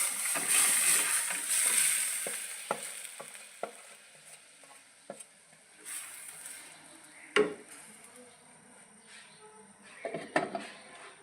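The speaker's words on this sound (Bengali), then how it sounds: "এখন আগে থেকে সেদ্ধ করে রাখা সেই মেহেরটার মধ্যে পায়াটা ভেজে দেব।" Boiled goat trotters (paya) frying in a pot with spices: a soft, steady sizzle under scattered knocks and scrapes of a spoon stirring against metal, close by, with no voices.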